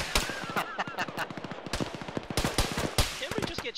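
Rapid gunfire in an Arma firefight, bursts of sharp shots cracking close and loud in irregular clusters, with voices talking over the shooting.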